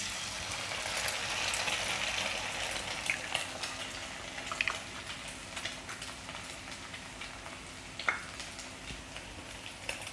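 An egg fries in a pan beside bottle gourd skin stir-fry, giving a steady close sizzle with occasional light scrapes and taps from a spatula, and no voices.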